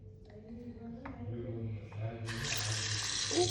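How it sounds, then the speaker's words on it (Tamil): A bathroom tap near a bathtub is turned on and water begins to gush steadily, loud and close, after a brief murmur of talk. "இப்படி தந்தால் நமக்கு தண்ணி வரும்."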